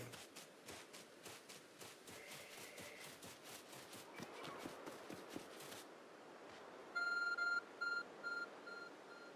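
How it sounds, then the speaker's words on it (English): Electronic beeping from a glowing object in the video game Pokemon Legends Arceus, a run of repeated short tones near the end that follows steady walking footsteps and other game sounds. "There's a glowing, beeping object over there."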